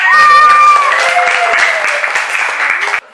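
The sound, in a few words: applause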